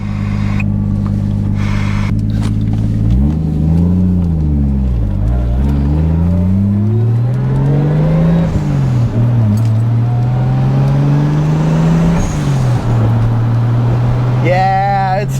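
A stock MK3 Toyota Supra fitted with an ECUMaster standalone ECU runs up close, its engine note rising and falling through several revs before settling into a steady idle, with people talking over it.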